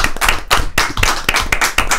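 Applause for a colleague at a meeting, a nearby cluster of hand claps in an uneven rhythm, sharp individual slaps standing out loud and close.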